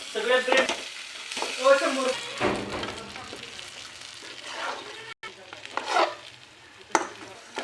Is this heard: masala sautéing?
yes